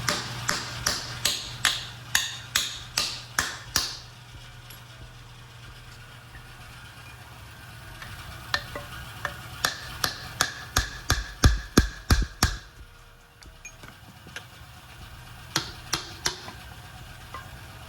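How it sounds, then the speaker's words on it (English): Sharp metallic hammer strikes on a car part land in quick bursts of rhythmic blows, separated by pauses, over a low idling engine hum, during a Mk3 Supra W58 transmission swap into an SC300. "So right now he's hammering that off."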